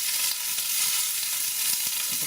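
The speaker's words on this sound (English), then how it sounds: "we'll use the same frying pan with the same juices" Vegetables sizzle loudly in a frying pan with leftover meat juices from braised ox cheeks, a close, steady hiss of frying with faint stirring clicks.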